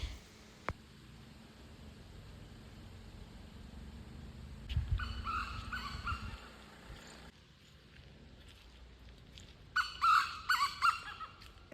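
Small bird in the cold evening hills of Munnar, calling now and then: short bursts of bright chirps in two separate spells over a steady low background hum, fairly faint and with no one talking.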